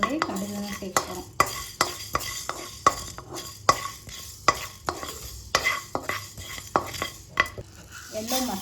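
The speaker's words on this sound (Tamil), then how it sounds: "வெந்தயம் வந்து லைட் ப்ரௌன் ஆனதும் நம்ம வந்து அதோடைய கடுகு சேர்க்கிறோம்." Fenugreek and mustard seeds fry in oil for an amla pickle, a steady crackle broken by repeated sharp scrapes and clinks of a spoon against the pan, with no voices.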